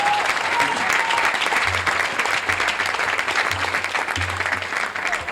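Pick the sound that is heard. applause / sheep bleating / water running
applause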